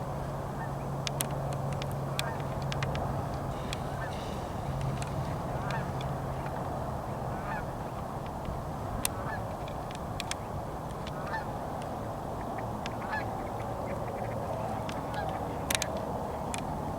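Geese honk repeatedly at a big river island nesting rookery, many scattered calls near and far over a constant outdoor rumble, with someone occasionally talking.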